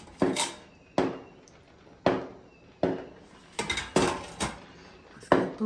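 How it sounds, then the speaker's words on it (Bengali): Dishes and cooking utensils clatter while being washed, with a series of sharp, close metallic and ceramic clinks and knocks spaced about a second apart and quickening toward the end, no voices. "ছোট্ট একটা জিনিস রান্না করতে গেলেও কতগুলো জিনিস ধোয়া পালা করতে হয়"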